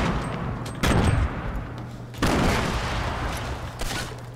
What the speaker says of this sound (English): I'm getting shot at by everyone